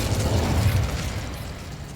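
An Incendio fire spell is cast in the Hogwarts Legacy video game, a loud, low, rumbling burst that whooshes out and then slowly fades over about two seconds, with no talk.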